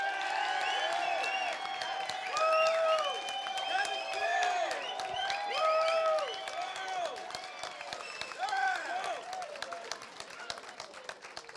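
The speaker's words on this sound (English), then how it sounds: "cheer now!" A debate audience cheers, whoops and applauds in a hall at a Yarra Valley wine debate, the crowd noise loud and steady throughout, with shouted voices rising over the clapping.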